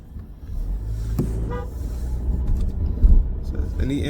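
Road traffic rumbles close by with engines droning and a short horn toot, while a person talks over the steady vehicle noise.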